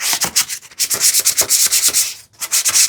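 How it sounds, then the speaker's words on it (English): Close, steady hand sanding on a wooden TV unit: quick rhythmic back-and-forth rasping strokes with one brief break, no voices. "I will start with like sanding it a little bit"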